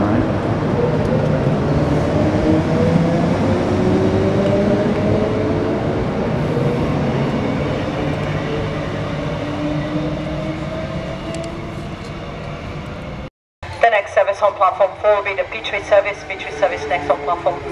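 A train rumbles and squeals as it slows into a station near Brisbane, then after a brief break an announcement of a commercial express service arriving on platform 4 plays over the noise.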